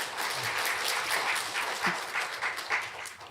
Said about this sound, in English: Please give another applause to Professor Baisheri.